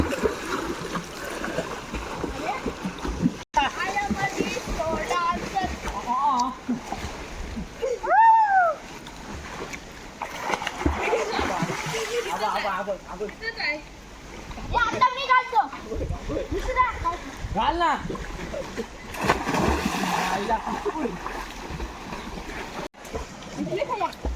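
Children swimming and splashing in a Konkan river, with repeated water splashes and stream noise under frequent children's and adults' talk throughout.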